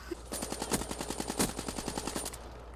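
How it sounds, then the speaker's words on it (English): Rapid automatic gunfire from the Black Ops III beta, a dense rattling stream of shots firing steadily for over two seconds, close and loud with no talk over it. "the gun sounds such, like, the gun sounds in Black Ops 1"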